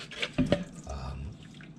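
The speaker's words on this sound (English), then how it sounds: "let's drain our special cat grass." Cat grass seeds soaked six hours in cool water being drained: a few quiet, close drips and a brief soft trickle, with no talking.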